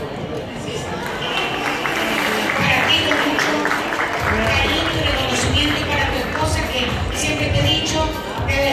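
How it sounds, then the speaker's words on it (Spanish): A crowd applauds during the opening of Ecuador Fashion Week 2019, a steady, loud wash of clapping and chatter that runs for several seconds while a voice speaks over it. "Un gran aplauso a vuestra distinguida trayectoria y brazo amigo."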